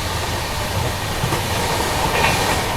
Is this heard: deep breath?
no